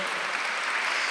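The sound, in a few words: congregation applause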